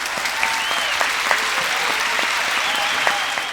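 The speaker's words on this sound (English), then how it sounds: "Can we just take a moment to give ourselves a bit of a round of applause for that?" Podcast hosts get a dense, sustained round of applause from a crowd, a steady wash of clapping with a few sharper individual claps, fairly loud and continuous throughout.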